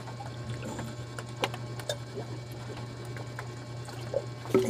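Water is poured to refill a container, a faint trickling splash over a steady low hum with small clinks and bumps, no one talking.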